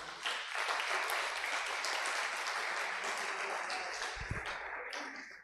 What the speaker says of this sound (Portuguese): Dê um forte aplauso ao Senhor.